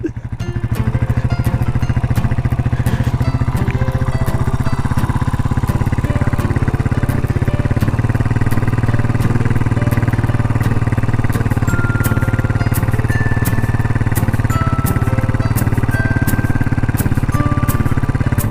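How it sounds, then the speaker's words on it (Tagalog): A Cafe 400 motorcycle engine runs on the beach at Lingayen Gulf, ridden into shallow seawater, giving a loud, steady, close throbbing drone that holds for the whole stretch with no talk. "Magmotor tayo sa dagat."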